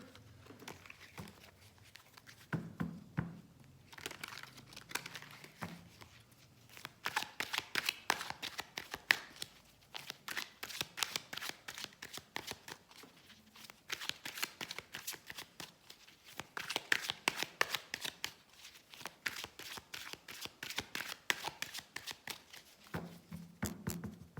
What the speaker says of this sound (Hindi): उसके लिए अब हम 3 कार्ड्स निकालेंगे।